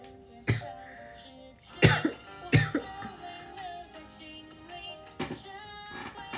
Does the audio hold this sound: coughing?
yes